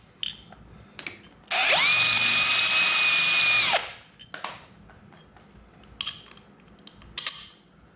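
A close, loud power drill spins a countersink bit into metal in one steady burst of about two seconds, bracketed by scattered clicks and handling noises.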